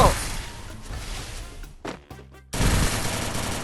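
Gunfire in the mobile battle game Free Fire, dense bursts of rapid automatic shots rattling continuously, briefly thinning into a few isolated cracks before a loud renewed burst.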